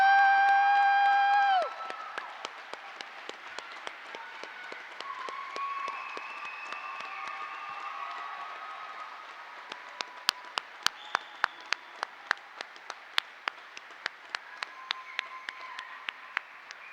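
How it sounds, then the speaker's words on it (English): Audience at a U.S. Army flight school graduation ceremony breaking into applause, starting as a dense wave of clapping and cheering that thins into scattered individual claps in a large hall, following a held tone. "Please join me in a round of applause for the Army's newest aviation warfighters."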